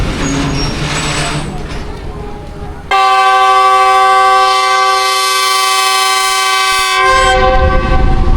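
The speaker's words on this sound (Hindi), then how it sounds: "और इसे कहते हैं GU20 का हॉर्न" A loud GU20 diesel locomotive horn at Taxila Cantt junction blasts in one sustained chord for about four seconds, after rumbling train noise, then fades back into engine and rail sounds.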